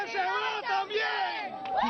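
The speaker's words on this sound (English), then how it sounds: "The cheering and chants are virtually non-stop." A jubilant crowd cheers and chants almost without pause in a restaurant after news of Hugo Chávez's death, voices overlapping in loud, sustained, rising and falling shouts.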